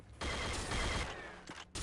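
The pulse gun in Unreal Tournament (1999) fires in a sustained rapid stream, a dense buzzing barrage that cuts off briefly and then resumes, loud and close with no voices.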